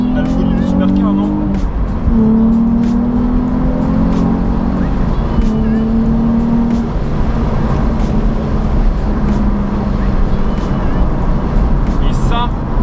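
A GT sports car engine runs steady and loud throughout, with the drone shifting in pitch as it pulls, heard from close by against road noise.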